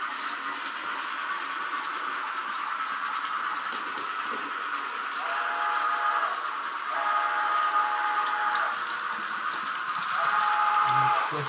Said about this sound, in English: express train going by.